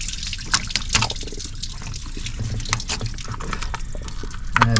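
Coolant trickles and drips from a Fiat engine as the thermostat housing is eased off, an irregular, close liquid dribble with scattered splashes throughout.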